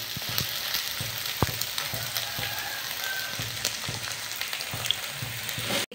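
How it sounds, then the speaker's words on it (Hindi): Egg frying in a pan on a gas stove, a steady close sizzle with small crackles and pops and occasional stirring scrapes, with no talking. "देखिए भूंज रहे हैं, आधा भूंजे हैं और थोड़ा इसको भूंजेंगे"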